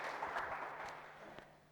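Applause for a student at a Sanskrit teacher exam results gathering, a brief steady patter of clapping heard at a distance with no talk over it.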